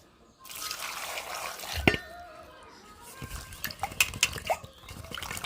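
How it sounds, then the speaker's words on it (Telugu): Tomatoes being washed in water, with close splashing, dripping and a few light knocks against a container in irregular bursts. "మనం అయితే ఇంక టమాటాలు శుభ్రం కడిగి తుడిచేస్తే"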